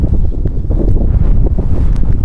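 Strong snowstorm wind in the Netherlands buffeting the microphone outdoors, a loud continuous low roar with gusty fluctuations and no talking.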